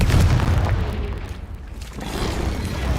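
A Confringo fire spell bursts in Hogwarts Legacy, a loud booming explosion that rumbles and fades, then swells again toward the end without speech.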